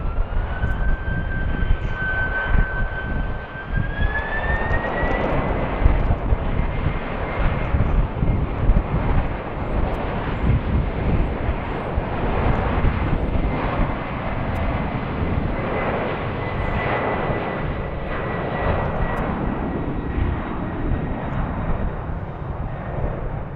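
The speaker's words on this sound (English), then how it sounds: "So let's get ready for Prime Air. So Boeing 767 heading to Wilmington," A Boeing 767 Prime Air jet takes off from runway 15 right at BWI airport, a loud, steady jet engine roar that holds for the whole stretch with a rising whine early on.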